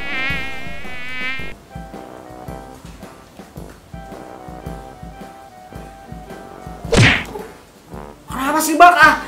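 Close mosquito whine with harmonics at the start, then a quieter steady drone, ending with a sharp slap and a burst of noisy movement.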